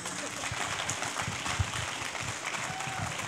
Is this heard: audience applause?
yes